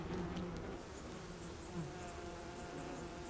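A small colony of about 10,000 bees in a spacious chamber in a Japanese satoyama forest, their layered combs hanging from the roof, produces a steady, dense, soft buzzing hum throughout, with no voices.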